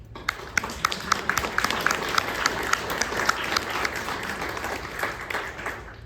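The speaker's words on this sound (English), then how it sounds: "Give her a quick round of applause." A room of people at a North Kitsap School District board meeting claps in a steady, moderately close round of applause that holds for several seconds and tapers at the end.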